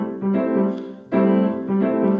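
Piano rocking offbeat pattern on a sixth chord, heard as rich sustained chords struck in a repeating rhythm, close and loud, with two main accented attacks and lighter ones between.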